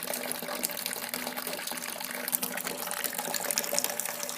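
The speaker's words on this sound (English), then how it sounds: "I might try to see if I can get a sneak peek on the inside to show you the fly sparging." Water runs steadily during fly sparging of a homebrewed IPA clone, with a constant close hiss and splash of liquid and no talking.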